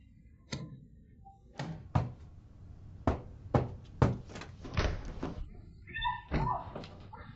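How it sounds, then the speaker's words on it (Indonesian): Knocking, a door and movement inside a house in a drama scene: a series of sharp, close thuds and knocks spaced out over several seconds, with faint background voices and clatter. "Buka pintu."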